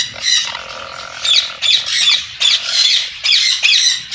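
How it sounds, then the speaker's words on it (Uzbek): Aratinga parakeet chicks squawking up close, loud raspy bursts repeated in quick succession with brief gaps between them. "Aratinka qushlarimizni bolasi bor"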